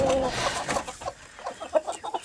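Backyard chickens clucking as they are let out of their coop for the morning, several birds close by in short irregular bursts, loud at first and then softer, with a voice briefly mixed in.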